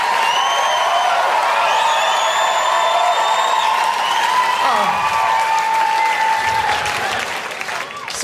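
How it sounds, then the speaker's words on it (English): Studio audience applause and cheering on the comedy panel show Stand Up for the Week, a dense, loud, steady roar of clapping with whistles and whoops that holds for about eight seconds before easing slightly at the end. "Give that applause, Tony."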